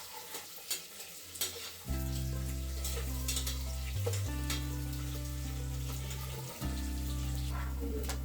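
Onions frying for biryani in a pan, a steady close sizzle with stirring scrapes throughout, a low hum underneath and brief clinks near the start.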